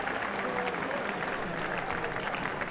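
Steady applause from a crowd at a professional squash tournament quarter-final, a dense continuous patter of clapping that holds at an even level throughout with no break.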